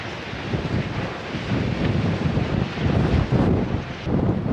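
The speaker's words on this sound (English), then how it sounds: "The winds right now in this section are insane." Strong wind on the Pacific Crest Trail roars and buffets the microphone in continuous gusts, loud and rumbling with surges of intensity, no voices.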